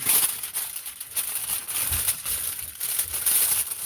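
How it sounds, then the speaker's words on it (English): Aluminium foil crinkles and rustles as it is handled and punched with a paper punch to sharpen it. The crisp crackling is close and continuous, with no talking. "I'm going to use the foil to sharpen my punch."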